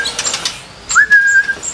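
A young songbird raised for competition gives a loud, close whistled call: a few quick chirps first, then one sustained rising whistle that holds steady before fading, with no talk.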